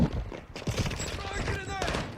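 Gunfire in the Call of Duty Modern Warfare II video game, a brief burst of rapid shots mixed with battlefield clatter, while a voice speaks over it.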